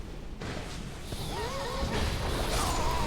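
A horse enemy in Dark Souls 2 lets out a loud, wavering whinny during a fight. Its rising and falling neigh sits over a rumbling, crashing game backdrop.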